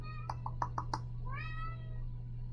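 A pet cat meows indoors several times in short, close bursts, followed by one longer rising meow, over a steady low electrical hum.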